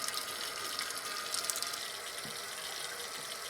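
Water running steadily into a toilet tank as it refills during a repair, a continuous hissing, splashing flow with no pauses, fairly close and unaccompanied by talk.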